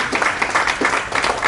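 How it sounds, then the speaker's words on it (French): Guests at a memorial gathering clap together in a short, close burst of applause with an uneven, pulsing rhythm. "Il faut qu'on applaudisse"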